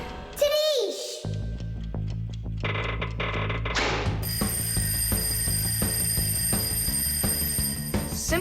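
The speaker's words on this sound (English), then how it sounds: "I think I can hear my alarm ringing" An alarm clock rings in a children's cartoon, a sustained bright metallic jangle that starts about midway after a few zany cartoon sound effects and a voice, then keeps ringing steadily and loudly.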